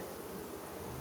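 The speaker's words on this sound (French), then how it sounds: "Dès qu'on crée une vibration, là, je vais le faire juste par principe, là, on va entendre les abeilles" Agitated honeybees hum in a dense, steady drone inside a hive being inspected, a close, continuous buzz with no pauses or voices.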